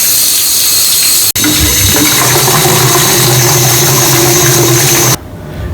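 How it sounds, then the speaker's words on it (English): A tap runs steadily and loudly into a carpet washer's tank, filling it with hot water, with a pump-like hum underneath; the flow is briefly cut once and stops near the end. "So we're going to let the water run until it's hot."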